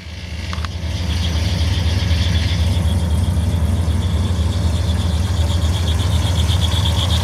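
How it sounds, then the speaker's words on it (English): A 1963 Studebaker Champ pickup engine with dual exhaust idles steadily with a thin, continuous high squeal from a belt running over it throughout. "A little bit of a belt squeak, no big deal."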